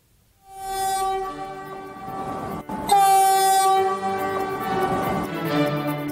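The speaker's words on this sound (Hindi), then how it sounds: "पटना से ट्रायल रन पर निकली ये ट्रेन जैसे ही जसीडीह रेलवे स्टेशन पहुंची" The Vande Bharat Express pulls into Jasidih station on a trial run from Patna, sounding a loud, sustained multi-tone horn that swells and breaks, with rumbling train noise and no speech.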